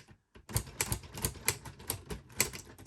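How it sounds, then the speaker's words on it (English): A LEGO 21327 typewriter clacks steadily as its plastic keys are struck and the mechanism shifts sideways, giving a close, rhythmic run of sharp taps with no talking. "Sounds like a typewriter."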